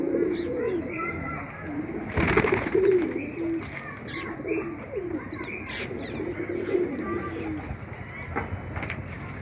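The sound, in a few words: pigeons cooing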